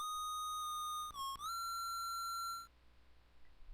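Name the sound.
Proto Man's whistle in Mega Man 5 video game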